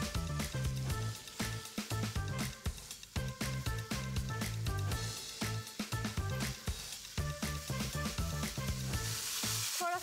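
Chopped chicken breast pieces sizzling in a hot pan, a dense, continuous crackle and hiss of frying close up that holds steady throughout, alone without talk.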